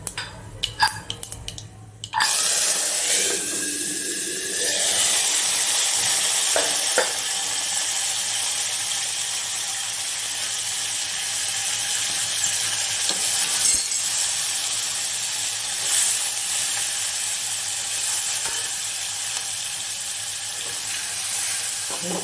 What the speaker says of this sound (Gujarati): હવે આપણે જે વટાણા પલાળ્યા હતા એ નાખીશું.